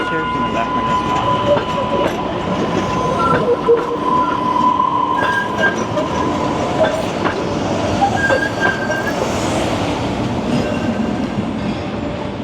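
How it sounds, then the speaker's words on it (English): A Green Line light rail train rolls past up close at Chestnut Hill Reservoir, Boston, wheels clacking and squealing over the rails in a loud, sustained rumble with a few metallic screeches. "We're gonna watch the train when it goes by"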